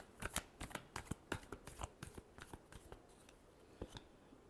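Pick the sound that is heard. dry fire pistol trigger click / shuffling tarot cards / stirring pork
shuffling tarot cards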